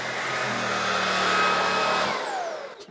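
Tineco Pure One Station 5 cordless vacuum running on carpet in maximum mode, a loud, steady close-up whine and motor hum that winds down and cuts off near the end.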